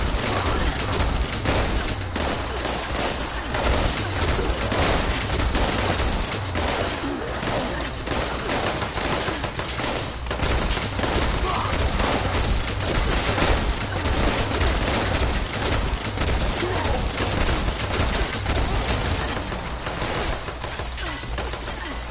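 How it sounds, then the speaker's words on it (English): Dense, nonstop gunfire at a super mutant rattles through a Fallout 76 battle, loud and constant throughout, with no pauses between shots. "Oh, it's shooting at the super mutant."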